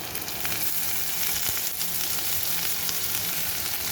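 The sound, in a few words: garlic frying in a pan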